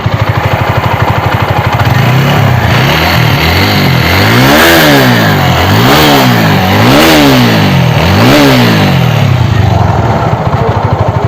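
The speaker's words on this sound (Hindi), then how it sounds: "मैं आपको इसका इंजन का भी साउंड सुना देता हूँ एक बार।" A rebuilt TVS RTR 200 4V motorcycle engine idles close by, then is blipped through several rising and falling revs in a rhythmic pattern, loud and alone.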